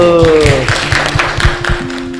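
Scattered claps from a small classroom group in irregular bursts, applauding a student, with a voice carrying over them.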